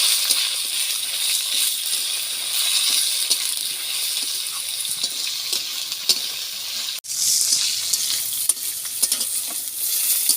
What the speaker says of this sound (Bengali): এবার আমি বেগুনটা দিয়ে দেবো আর একটু ভেজে নেব